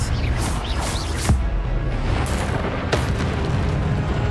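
Spell blasts from the Hogwarts Legacy video game: a few sharp booming bursts over a dense, constant rumbling battle soundscape, loud and close, with no talk.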